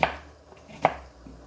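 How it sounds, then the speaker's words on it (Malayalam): Knife chopping bell peppers on a cutting board for chilly beef, two crisp, close taps about eight-tenths of a second apart with a faint third knock, in a quiet kitchen. "അപ്പോൾ നമുക്ക് ഈ പെപ്പറെല്ലാം ഇങ്ങനെ കട്ട് ചെയ്തെടുക്കാം."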